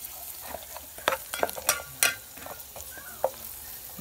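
Onion and garlic sauté in a pan, a soft steady sizzle with a utensil stirring and scraping through several brief clatters, close by and without any voices.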